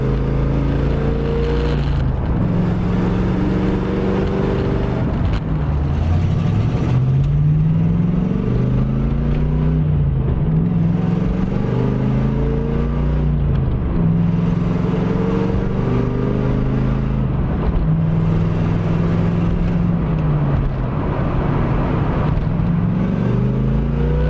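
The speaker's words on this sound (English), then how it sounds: "actually driving with this new MGW short throw shifter" A 1982-1992 Camaro Iroc-Z with an MGW short throw shifter and worn stock suspension drives steadily, its engine note rising and falling through repeated gear pulls, loud and close throughout.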